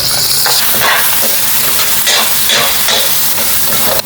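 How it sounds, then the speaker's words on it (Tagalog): Onion and mushroom sautéing in oil in a pan, a steady loud sizzle and fry with stirring scrapes throughout, no voices. "sa same na kawali, binawasan ko lang yung ating mantika ay magisa tayo ng sibuyas"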